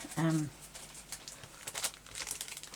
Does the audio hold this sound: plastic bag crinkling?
yes